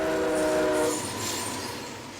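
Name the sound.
train passing crossing with horn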